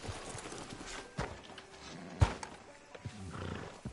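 In a Red Dead Redemption 2 game scene, horse hooves clip-clop softly at a slow walk beside a sheriff's office, with a sharp thud partway through and faint ambient rumble, fairly quiet.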